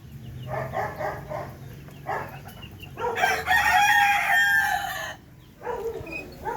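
Darag native chickens on a Philippine farm cluck in short bursts, then a rooster gives one loud, close crow in the middle before the clucking resumes.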